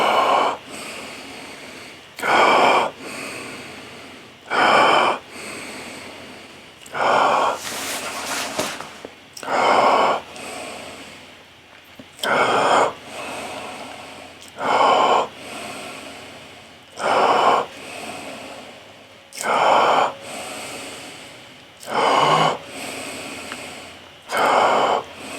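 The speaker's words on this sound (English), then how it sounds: "graceful breathing, fluid" Forceful rhythmic breaths in a power breathing exercise, a loud close sharp exhale repeated about every two seconds in a steady pattern, with brief quieter gaps between.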